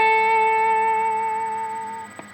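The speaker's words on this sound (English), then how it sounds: "So you bend and then vib straight away." Electric guitar note bent up and held with vibrato right away, a single sustained sung tone wavering evenly for about two seconds before cutting off with a small click, close and unaccompanied.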